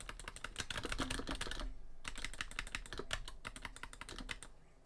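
Rapid, uneven plastic clicking from arcade fight stick joystick micro switches, dense bursts with a brief pause midway, close and fairly loud, no voices.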